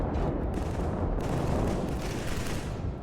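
Dense, continuous assault rifle fire in the video game Killzone 3, loud and close with overlapping shots and booming blasts sustained throughout.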